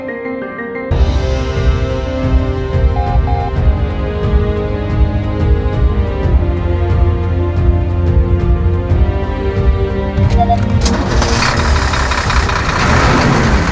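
A Foton 1016 truck's Cummins ISF 3.8 diesel engine idles steadily with a low, rumbling chug, loud and close, with a brief metallic clatter near the end.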